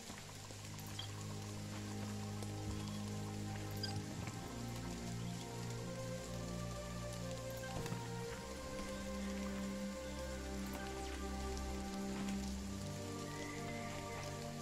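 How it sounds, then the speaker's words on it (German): Steady rain pours throughout a Jagged Alliance 3 game scene, a dense even hiss of drops striking surfaces with a low ambient hum underneath and no voices. "Schön den Regen, den wir im Hintergrund hören"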